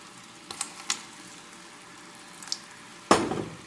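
A little lukewarm water goes into a hot pan while pudding is made, giving a few soft clinks and a brief, sharp sizzling burst near the end over a quiet background.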